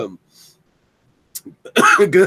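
A throat clearing and a cough break out in the middle of casual talk, with a short throaty burst followed by louder rough hacking close to the mic.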